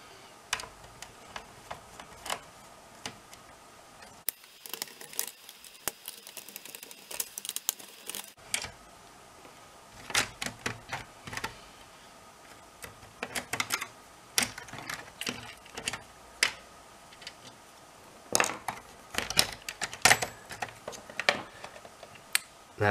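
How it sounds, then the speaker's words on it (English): Small gold screws being backed out of the metal interior of a PS2 console with a fan fault, heard as a run of close, sharp ticking clicks in irregular bursts, with no talk. "Next part is to remove all these gold, these 1, 2, 3, 4 gold screws."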